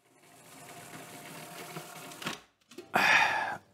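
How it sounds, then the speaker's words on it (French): A food processor blends praline with a steady motor whir and gritty churning, then stops briefly before a louder, harsher burst of grinding at the end. "il faut mixer un bon moment avant d'obtenir le pralin et la consistance voulue"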